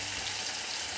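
Chopped tomato hitting hot oil with curry leaves and asafoetida in a pan, a steady close hiss of frying with a dense, even sizzle throughout.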